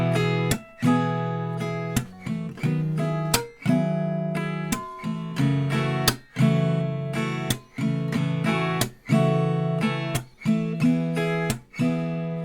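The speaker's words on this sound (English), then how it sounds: "One strum run per chord, and it sounds like this." Acoustic guitar strumming chords, each chord sounded with one strum run and left ringing before the next, played alone at a steady, unhurried pace.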